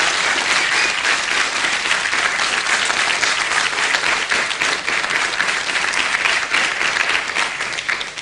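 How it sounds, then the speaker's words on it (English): On a 1992 Swedish television talk show, the studio audience gives Glenn Frey a long, thick round of applause, many hands clapping evenly and loudly for several seconds with no voices over it. "you're going to give Glenn Frey a big applause."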